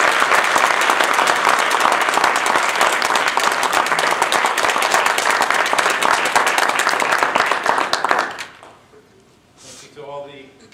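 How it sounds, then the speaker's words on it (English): Loud, sustained applause for speech contestants at a Toastmasters district speech contest, dense clapping from a crowded room that stops abruptly near the end, followed by a brief quiet stretch and a voice speaking. "Let's give them one more loud round of applause."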